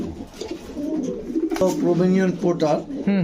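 Fancy imported pigeons on a farm coo in low, throaty, repeated rolling calls, close and clear, with someone talking over them.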